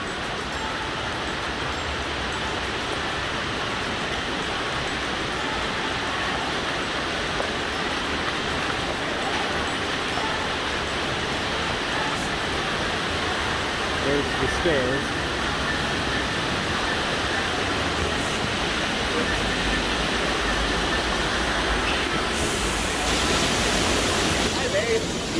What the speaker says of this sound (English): we're almost to the first waterfall